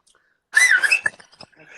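One short whistled phrase that glides up and down for about half a second, followed by a few faint clicks.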